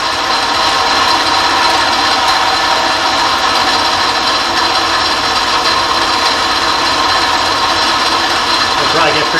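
A metal shaper cuts a hydraulic press plate with a 40-thousandths pass and dark cutting oil, giving a dense, continuous loud scraping grind with no pauses.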